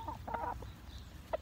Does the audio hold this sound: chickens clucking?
yes